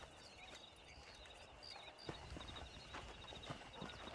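Horse hooves clip-clop in a quick, steady rhythm at moderate distance in the video game Red Dead Redemption, with a high tonal hum running underneath.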